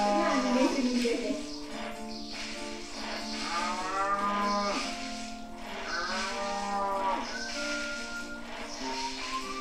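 Cartoonish cattle moos from the cow-milking minigame in the Nintendo Switch party game 1-2-Switch, several long drawn-out lowing calls in a row, loud and close, with faint talk underneath.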